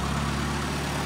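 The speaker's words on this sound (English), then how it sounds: "Look how clean it's idling" A Mercedes M121 four-cylinder engine idles steadily nearby, a smooth, even low rumble with no skips, heard alone without talk.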